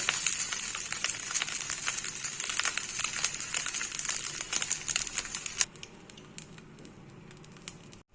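Curry leaves fry in a pan for curry leaf rice, giving off a dense, close crackling sizzle that stops abruptly partway through and leaves faint scattered pops.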